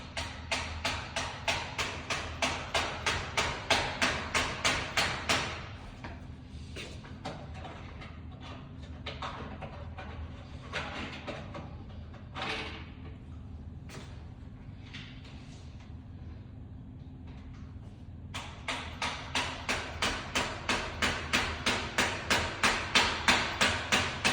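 Rapid, steady metallic hammering as the butt of a drill strikes a pin into a wooden bi-fold louvered door, a fast series of blows that stops, leaves some clatter and shuffling, then resumes at the same quick rhythm.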